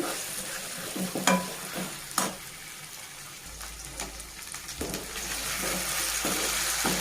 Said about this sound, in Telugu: ఇవి ఇలాగే ఒక ఫైవ్ మినిట్స్ వరకు బాగా ఫ్రై చేసుకోవాలండి